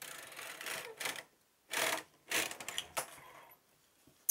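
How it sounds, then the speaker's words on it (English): A knitting machine carriage pushed across the needle bed from left to right, giving several loud mechanical clattering, whirring bursts broken by short pauses, close and alone without talk. "I'm going to knit from the left side"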